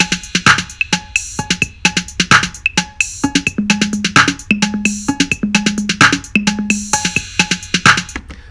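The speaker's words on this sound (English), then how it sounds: "So my drum track now for this part sounds like this." Programmed drum track for a song's bridge section, a loud, punchy repeating groove of kicks, snappy hits and bright metallic percussion in a tight steady rhythm, with a short tonal bass line joining midway and no voices.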